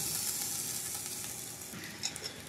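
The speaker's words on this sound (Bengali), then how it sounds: "দিয়ে একটু ভাজা হলেই তৈরি হয়ে যাবে আলুর কুলচা" Aloo kulcha sizzles and fries in white oil in a pan, a steady close crackling hiss with a few brief louder pops near the end.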